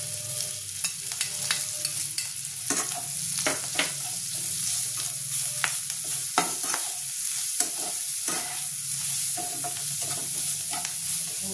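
Chopped garlic frying in a pan while an egg chilli dish is cooked, with a steady sizzle and frequent scraping and stirring clatters of a spatula throughout, close and fairly loud with no talking.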